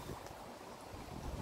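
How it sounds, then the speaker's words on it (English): Breezy outdoor wind rumbling and buffeting against the microphone, a steady low roar with no talking. "Apologies if you can hear the wind, it's a lot breezier today than it was"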